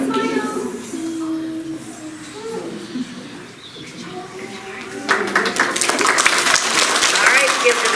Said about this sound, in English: All right, give them a big round of applause.